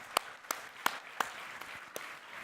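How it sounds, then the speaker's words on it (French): A few sparse, separate hand claps, about six irregularly spaced, faint and fairly close in a quiet room at a professional conference, with no wider ovation building around them. "On peut l'applaudir plus que ça."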